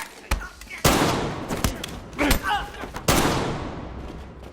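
Several loud gunshots ring out in a tense film scene, sharp cracks spaced irregularly over a few seconds with reverberant tails and some voices underneath.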